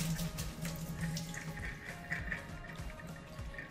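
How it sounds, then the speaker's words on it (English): Running tap water splashing into a container of sprouted chickpeas at a kitchen sink, a steady close rush of flowing water with sloshing as the jar is filled, rinsed and drained. "I'm gonna drain the water, give it a final rinse, fill it up, give it a shake,"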